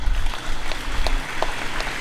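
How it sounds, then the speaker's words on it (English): Graduates at a university graduation ceremony applaud their parents and guardians, giving a brief, loud, dense wash of many hands clapping at once. "I ask you to salute them, graduates, with a tremendous round of applause"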